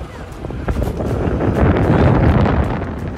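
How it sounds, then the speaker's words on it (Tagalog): Cold breeze buffeting a microphone on the way to a wine tunnel in Cheongdo, a loud, rough, gusting rumble that swells and stays strong throughout. "Sarap na simoy ng hangin."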